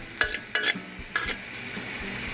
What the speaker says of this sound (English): So let me get my meat stirred up with the garlic and ginger.